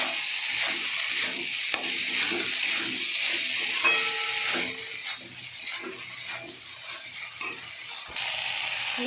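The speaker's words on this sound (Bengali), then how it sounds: "আমি এবার সয়াবিন বড়িটা দিয়ে দেবো। মশলায় ভালো করে কষে দেবো।" Soya chunks frying and being stirred in a spice masala in a pan, a steady close sizzle broken by repeated scraping stirs, with no talk.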